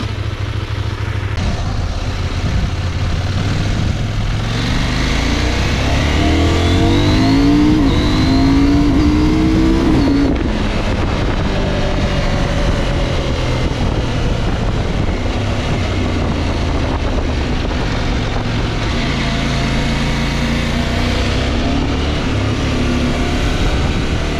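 A CFMOTO 800MT Explore motorcycle rides along an open road, its twin engine droning loud and steady with rising and falling revs as it accelerates and shifts, wind rush running throughout without any talk.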